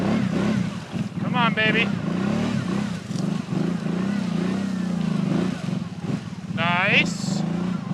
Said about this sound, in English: Let's see if I can hop up on this muddy bank on the driver's side here.